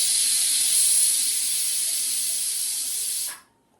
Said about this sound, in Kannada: ಒಂದು ವಿಷಲ್ ಬಂತು, ಇನ್ನೊಂದು ವಿಷಲ್ ಬಂದಮೇಲೆ ಆಫ್ ಮಾಡ್ತೀನಿ